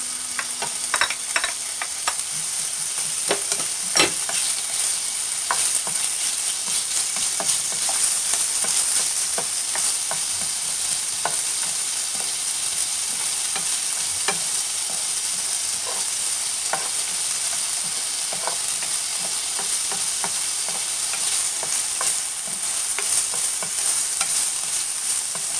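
Onions frying and stirred in a pan while cooking Japanese omurice, a constant close sizzle with scattered scraping taps from the stirring utensil throughout, no talk.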